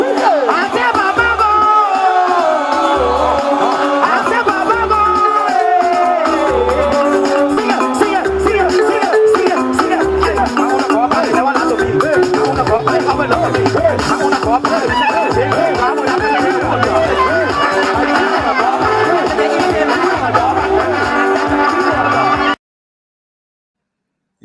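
A large crowd at a live show fills the space with dense, loud murmuring and cheering, with music-like tones and voices layered throughout before cutting off abruptly near the end.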